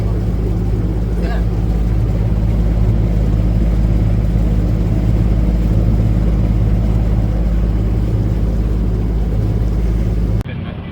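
Small boat motor running steadily in a canal at Georgetown on the Chesapeake, a close, loud, continuous droning hum that stays even for about ten seconds before cutting off abruptly.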